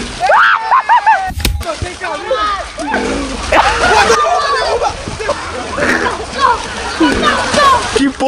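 A person jumps and splashes into muddy water during a mud football game, with loud sloshing and splattering while several people shout and cheer excitedly throughout.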